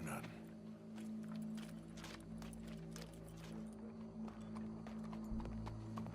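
A horse moves about with light clip-clopping hooves amid steady background hum and scattered clatter, while people speak nearby.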